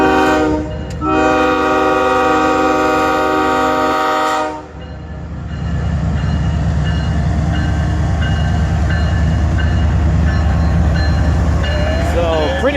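A CSX freight train led by ES44AH and CW40-9 locomotives passes close by, a loud horn blast opening before heavy engine rumble and rolling wheel noise take over and carry on steadily.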